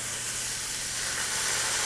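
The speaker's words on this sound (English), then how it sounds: "we're going to deglaze with some beef stock" A hot pan deglazed with beef stock gives off a steady, bright hiss of steam and sizzle that swells slightly and carries on without pause, close and fairly soft, with no one talking.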